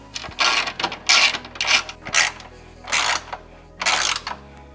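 A ratchet tightens bolts while a Velossa Tech Big Mouth ram air intake snorkel is fitted to a 2022 Subaru WRX. About six loud, close bursts of rapid clicking are separated by brief pauses.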